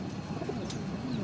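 Racing pigeons home from a hard 415-kilometre race, heard as soft low cooing murmurs at a loft, faint and continuous with a couple of brief higher chirps, no voices over them.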